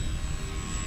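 FMS MOA 1500mm electric RC glider with its motor powered up in flight, a steady droning motor and propeller hum close by, continuous and fairly loud with no talk.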